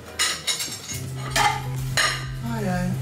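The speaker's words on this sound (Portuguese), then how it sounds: "acabei de pegar os talheres aqui" Metal cutlery clinks and clatters against dishes in a home kitchen, with several sharp close taps spread irregularly over a few seconds and a low hum underneath.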